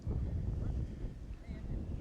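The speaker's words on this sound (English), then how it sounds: "Tough hole with this wind." Wind buffets the microphone on an outdoor disc golf course during a professional MPO round, a steady low rumble with gusts that fill the whole stretch.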